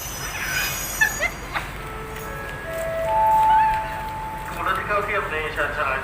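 A passenger train rolls into Thepha railway station with rumbling and high metallic wheel squeals, a voice talking faintly over the steady station noise.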